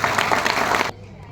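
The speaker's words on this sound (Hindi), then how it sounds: "अंदर तालियों से स्वागत करना।" Brief applause from a seminar audience in Ahmedabad, a steady clatter of many hands that stops abruptly about a second in, leaving quiet room tone.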